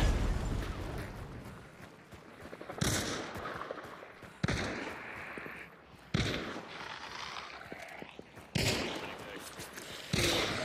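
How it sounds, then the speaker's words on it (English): Repeated gunfire from a shooter video game: sharp, loud bursts strike at intervals of roughly one to two seconds over a dense, noisy battle backdrop, with faint talk underneath. "I'm gonna just start wasting ammo here"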